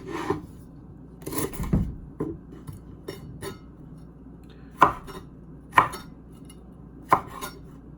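A knife chops through fresh ginger on a cutting board, with a few softer scrapes early on and then three sharp, separate cuts spaced about a second apart, close and clear with no talking.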